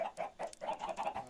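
Chickens cluck repeatedly in a Minecraft farm, short bursts in a quick rhythm, fairly faint and close, with no talk over them.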